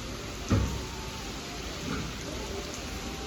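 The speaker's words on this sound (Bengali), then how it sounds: "কালকে রাত থেকে কি পরিমাণে বৃষ্টি করছে" Heavy monsoon rain in Bengal, falling steadily after a night-long downpour: a constant close hiss of drops, with one brief louder knock near the start.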